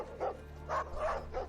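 Dogs barking in a dramatic scene, four short woofs in quick succession at moderate distance over a low background hum.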